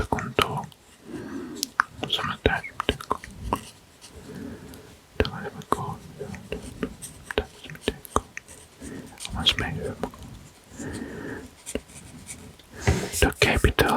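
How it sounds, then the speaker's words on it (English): A pen traces the outline of a map of Moldova on paper, giving soft scratchy strokes in close ASMR detail beneath whispered narration that runs throughout. "let's draw the contour."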